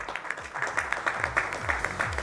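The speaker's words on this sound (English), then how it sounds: "A big round of applause for Scientist of the Year Award winner, Dr. Malla Reddy Chilla" Applause fills an annual summit hall for a Scientist of the Year award winner, a sustained wash of many clapping hands at moderate loudness, with a low rumble underneath.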